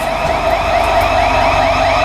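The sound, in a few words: building alarm going off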